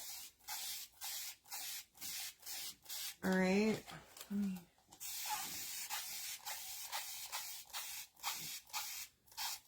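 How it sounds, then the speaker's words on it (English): A spray bottle of plain water pumps in quick, regular hissing bursts, repeated many times. A voice briefly speaks partway through. "I'm just spraying plain water"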